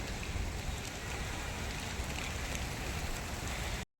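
A steady, dense hiss of heavy rain pouring down close by, unbroken for the whole stretch, then cutting off abruptly at the end.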